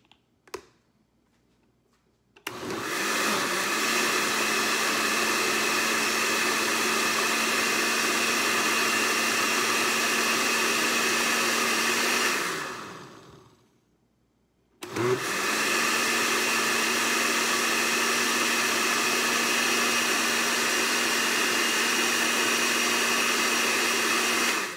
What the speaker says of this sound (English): I'm just going to blend.